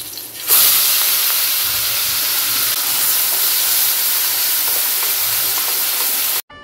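A whole batch of spice paste for a green fish gravy hits a hot pan with an abrupt, loud burst of sizzling that holds as a dense, steady hiss close by, cutting off briefly at the end.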